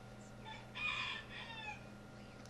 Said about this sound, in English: here's my rooster out here making his announcement